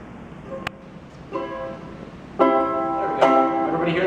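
A plugged-in electric ukulele sounds a few strummed chords through an amplifier, each ringing out clearly in a quiet room, the last two coming close together.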